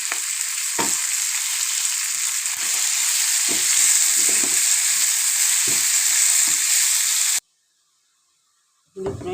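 Onion and tomato fry in a hot pan with a loud, steady sizzle close by. Occasional stirring knocks sound through it before the sound cuts out abruptly and then briefly returns.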